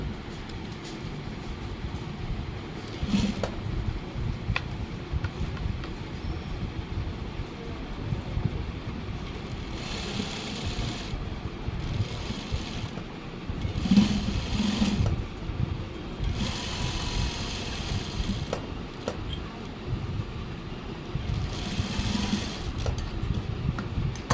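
A sewing machine runs steadily while stitching school uniform pants, a continuous mechanical whir with a few brief spurts of louder running, no talk over it.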